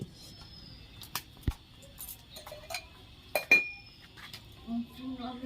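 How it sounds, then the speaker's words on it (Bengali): A metal kadai set down on a kitchen stove, several sharp clanks and clinks of cookware in a quiet room, with brief soft sounds between. "এবার আমি কড়াইটা বসিয়ে নিচ্ছি"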